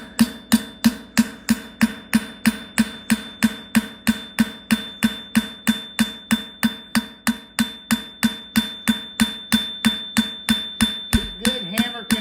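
A farrier hammers a Werkman Maverick hind horseshoe on an anvil, a long run of loud, evenly spaced ringing blows, about three per second, with no talk.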